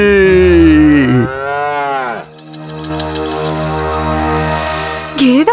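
A buffalo lets out loud, close, drawn-out moos, one long bellow sliding in pitch followed by a second sustained call, and a third moo begins right at the end.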